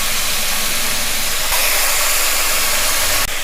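Mutton fat frying with onions in a pan, a loud, unbroken sizzling hiss that holds steady and then cuts off sharply near the end.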